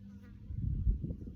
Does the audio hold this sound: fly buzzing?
yes